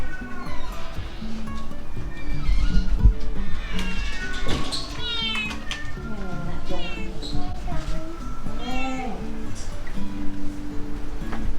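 Several cats meow and caterwaul repeatedly at an animal welfare clinic, some of them FIV positive, the rising cries overlapping near and far while a person speaks soothingly underneath.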